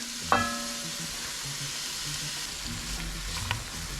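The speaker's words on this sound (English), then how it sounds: "And let's dump in the onions. And then the garlic." Onions and garlic fry in a hot pan over medium-high heat for vegetarian chili: a steady broadband sizzle with a sharp clatter as they drop in near the start and another knock a few seconds later.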